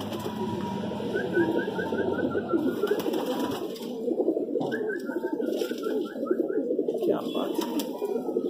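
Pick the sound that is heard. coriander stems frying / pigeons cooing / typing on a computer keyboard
pigeons cooing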